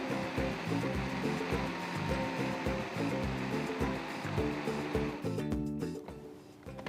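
A kitchen blender runs steadily while blending a pineapple drink, a dense close whirring roar that holds constant and then winds down toward the end.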